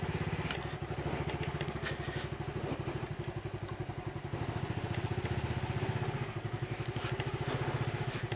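A motorcycle rides through Noyagram village in Sylhet, its engine putting out a steady, close, pulsing rumble throughout with light rattles and thumps from the road.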